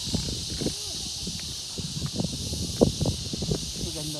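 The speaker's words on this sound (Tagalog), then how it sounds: "Lakas ng kuliglig." Crickets at the Chocolate Hills in Bohol keep up a constant high, shrill drone. Voices and rustling movement break in close by over the insect chorus.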